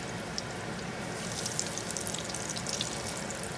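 Potato-crusted sturgeon fries in a cast iron pan, giving a steady, faint sizzle with scattered soft crackles and pops close by, and no voices.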